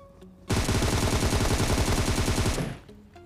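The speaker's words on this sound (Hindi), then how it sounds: "उसके बाद इसका जो थर्ड वाला टीम है वो फायर देता है" Rapid automatic gunfire from an enemy squad in the mobile battle royale PUBG Mobile, a loud sustained burst lasting about two seconds with quick regular shots, alone without talk.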